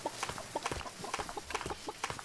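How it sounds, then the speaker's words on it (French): A chicken sits in a shopping cart in the Fortnite battle royale game, clucking in quick repeated bursts. The clucks are fairly faint and close, with no talk over them. "Il y a une poule dans le caddie."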